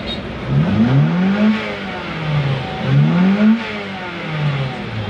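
Ford Escape engine revving up and down twice after its MAF sensor was cleaned, rising and falling sweeps heard close and loud, with a steady idle between the revs.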